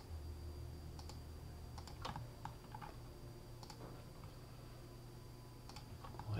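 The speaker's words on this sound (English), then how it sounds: "So go ahead and hit the delete key." A computer keyboard is tapped in scattered, sparse keystrokes, with several crisp clicks and a short cluster near the start and others spread out later, all close and quiet over a steady low hum.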